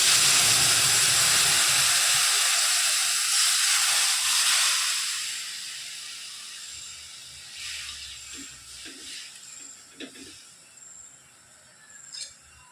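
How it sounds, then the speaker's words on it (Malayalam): Loud, steady sizzling hiss of mustard seeds frying in hot oil for gooseberry pickle fades after a few seconds, leaving sparse crackles and small pops. "കടുക് വറുത്തെടുക്കാം."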